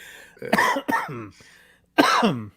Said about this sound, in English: Sorry, a little cough there.